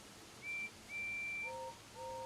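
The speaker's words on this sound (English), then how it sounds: "Percy will whistle and Gordon will whistle back." Two steam engine whistles from a Thomas & Friends video game sound as thin, steady tones, one long call followed by a lower two-note answer that cuts off and returns, faint and clean over a quiet background.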